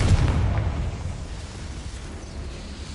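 Confringo blasting spell explosion in Hogwarts Legacy, a sharp heavy boom at the start followed by a rumbling, fading tail of debris and echo, loud and close with no talk.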